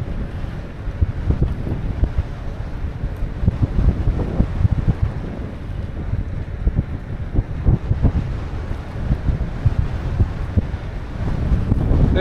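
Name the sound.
strong wind blowing into the microphone while riding a mini moped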